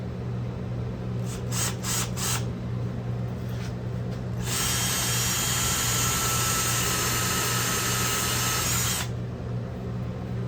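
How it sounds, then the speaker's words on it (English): A power drill with a 1/2 inch wood bit bores through wood, starting with a few short bursts, then a sustained high whine for several seconds over a steady low hum. "we got a 1/2 inch wood drill bit"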